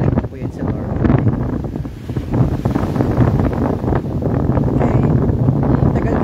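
Large ocean waves off Miami after a storm, heard with strong wind buffeting the microphone, a loud continuous roar of surf and gusts up close.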